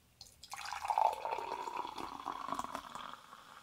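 Mountain Dew Typhoon soda is poured into a glass, a steady fizzing splash that starts abruptly and continues fairly close and soft, with no talking.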